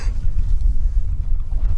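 Strong wind buffets the microphone with a steady low roar and rumble, outdoors on open water in the middle of Lake Ontario in freezing cold, with no voices.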